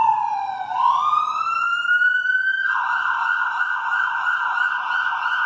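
A loud siren wails close by, sweeping upward in pitch and then holding a steady, piercing tone.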